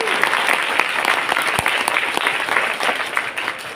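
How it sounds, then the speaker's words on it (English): Audience applause for a family member at a youth event, a steady dense wash of many hands clapping that carries on throughout, loud and close with no talk over it. "please give a big round of applause to Sam for your papa"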